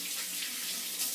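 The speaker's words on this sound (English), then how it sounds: "run it under the water" A Parker 26C safety razor is rinsed under running tap water, a steady, quiet hiss of flowing water close by, with no one talking.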